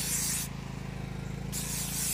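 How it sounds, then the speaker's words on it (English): A cleaning spray is sprayed at home, a series of hissing sprays with soft rhythmic pulsing, fairly close and moderately quiet, with no talk. "So I'll just spray it down."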